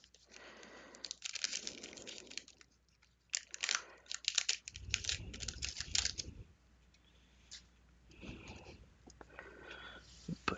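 A 1991 Fleer basketball card box is opened and its foil packs handled, with crinkling, tearing and rustling in uneven bursts close up, separated by quieter gaps.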